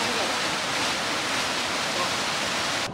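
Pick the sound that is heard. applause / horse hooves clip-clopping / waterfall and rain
waterfall and rain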